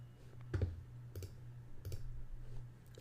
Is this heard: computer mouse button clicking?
yes